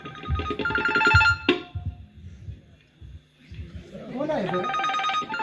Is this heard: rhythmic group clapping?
no